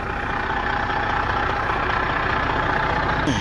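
A truck fitted with a Detroit 12 engine, swapped in to replace a KAMAZ unit, idles steadily close by with a continuous low rumble and even mechanical hum, with no speech.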